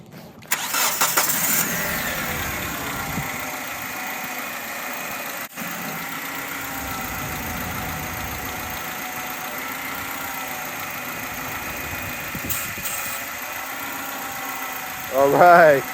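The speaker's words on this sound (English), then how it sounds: "go ahead, start up the car" A 2008 Kia Spectra engine starts with a short cranking burst and then settles into a steady idle for a long stretch, loud and close; the car has a squeaking power steering and alternator belt, and a voice joins briefly near the end.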